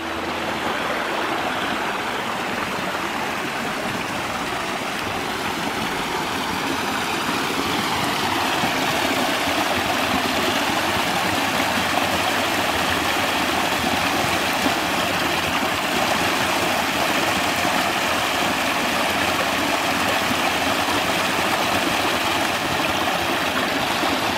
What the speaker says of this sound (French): j'ai entendu le bruit d'une petite cascade. Alors là, c'est la deuxième.